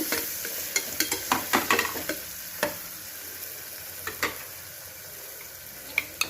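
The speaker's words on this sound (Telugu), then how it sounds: "టమాటాలు బాగా వేగినాయండి కారము ధనియాల పొడి పసుపు ఉప్పు వేసి ఒకసారి కలబెట్టేసి" Chili powder, coriander powder, turmeric and salt stirred into fried tomatoes in a pan for mattikaya pulusu, a spoon clacking and scraping in sharp irregular knocks over a faint sizzle, close and alone without speech.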